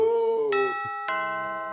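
A doorbell rings in a haunted house with two clear ding-dong chime strikes that ring on and fade, close and fairly loud, with no talk.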